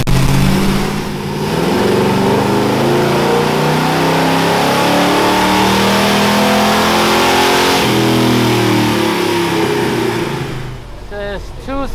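Chevrolet C15 engine roaring loudly on a dyno during a second-gear pull, its pitch climbing steadily as it revs up close, then backing off at the end, with voices talking over it.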